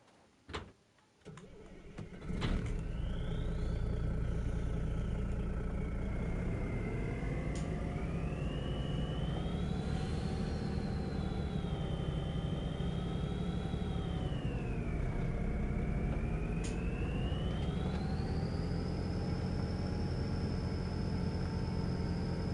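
Antique tractor engine in Farming Simulator 22, a steady droning idle with a whining tone that rises and falls as the throttle changes, running continuously and close after a brief clunk at the start.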